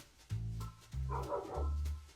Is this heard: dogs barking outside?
yes